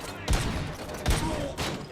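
Gunfire in Robocop: Rogue City, three heavy booming shots spaced roughly evenly over a couple of seconds, close and loud amid game noise.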